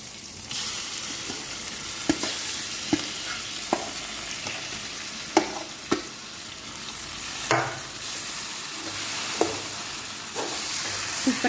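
Ragi kali (finger millet dough) being stirred into an onion and mustard seed tempering in a pan: a steady low sizzle broken by repeated sharp scrapes and knocks of the spoon, close up, with no talking.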